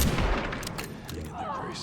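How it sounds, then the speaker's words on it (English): A single loud gunshot from the video game Resident Evil Requiem, followed by a rumbling explosion from a nearby tank of fuel, with the player talking faintly. "So I'll wait for them to get a little closer and I shoot him."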